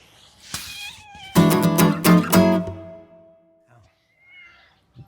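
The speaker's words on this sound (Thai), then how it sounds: "เจ้าเหมียวมากวนไม่เป็นไรครับ" A cat meows loudly and close in a few drawn-out, wavering cries, with a faint higher squeak following after a pause in an otherwise quiet room.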